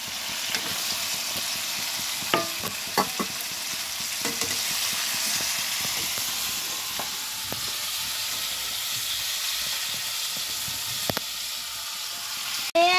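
Potatoes sizzling steadily in a hot frying pan, a continuous broadband frying hiss with scattered small pops and crackles, close and alone.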